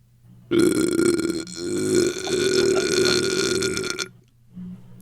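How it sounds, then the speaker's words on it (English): A long, loud, drawn-out burp right up close, rumbling for several seconds before cutting off, followed by a short softer grunt. "I burped on the mic"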